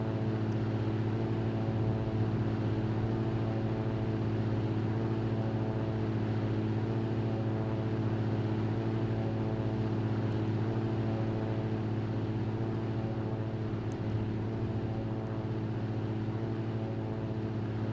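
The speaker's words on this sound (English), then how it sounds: "But you can still hear that repetitive engine sound." Cirrus SR22 piston engine drone in the X-Plane 11 flight simulator, a loud, steady, repetitive hum holding unchanged for the whole stretch with no voices.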